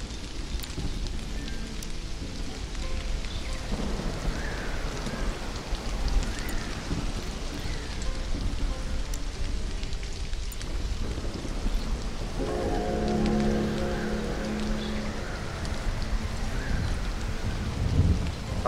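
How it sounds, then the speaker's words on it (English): In the game Stranded: Alien Dawn, steady heavy rain falls throughout with rumbles of thunder rolling in, one swelling louder late on. No voices are heard. "Come on, can this storm finish already?"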